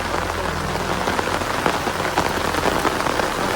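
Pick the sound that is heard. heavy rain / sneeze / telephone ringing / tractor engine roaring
heavy rain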